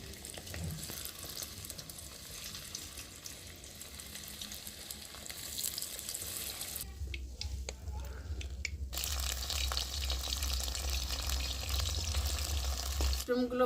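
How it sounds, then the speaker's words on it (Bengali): Mushrooms sizzle steadily in hot oil while frying for a mushroom chilli, a continuous crackling hiss that grows louder and denser toward the end, with a brief stirring break partway through. "বাকি মাশরুমগুলো আমি এইভাবেই ভেজে নিচ্ছি।"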